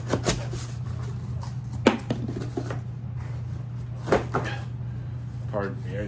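Handling and prying at a stubborn cardboard box during an unboxing: scattered close knocks, scrapes and bumps of cardboard being worked open, over a steady low hum, with a couple of sharper taps standing out.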